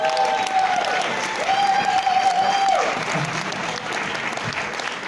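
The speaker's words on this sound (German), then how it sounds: "Großen Applaus für Ela!" Audience applause for a guest named Ela arriving on stage at a live premiere show, a dense sustained clapping of a crowd filling the whole stretch, with a faint tone and murmur underneath.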